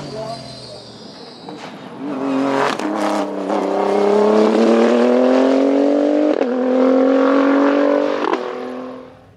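A Renault RS01 race car at the Dunières hill climb in Auvergne, 2023: a loud, high-revving engine swells in as the car approaches and drives past, holding a strong, steady roar with brief gear-change dips before fading slightly.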